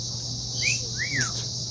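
A parrot at a zoo gives a couple of short, rising and falling whistled calls, faint against a steady background hum and insect-like buzz, with no talk over them.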